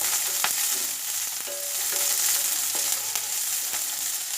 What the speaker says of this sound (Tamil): வெங்காயம் வதங்குற டைம்லேயே கொஞ்சம் பச்சை மிளகாய், 2 கருவேப்பிலை போட்டு வதக்கிக்கோங்க.